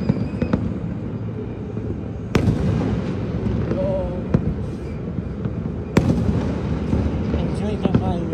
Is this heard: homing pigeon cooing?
no